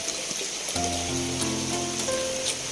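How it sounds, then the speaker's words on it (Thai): Steady rain falls in a wet, humid outdoor setting, a continuous close hiss and patter with low tonal hum beneath, no voices. "บรรยากาศ ฝนตก ที่ชุ่มฉ่ำนะเพื่อน"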